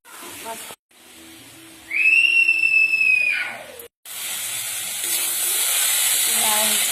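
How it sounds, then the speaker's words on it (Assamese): Hissing sizzle of okra frying in a hot pan, rising to a loud crackle with a brief high whistle, then a steady sizzle continuing to the end. "আৰু এইবাৰ কৰি আছোঁ ভেন্দি ফ্ৰাই"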